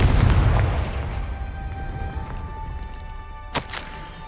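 A Confringo blast spell from the Hogwarts Legacy video game lands as a deep booming explosion that rumbles and fades over several seconds, followed by a sharp brief crack near the end.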